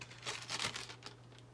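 Faint, close crinkling of a paper McDonald's receipt pulled from a purse, a short run of soft crackles alone.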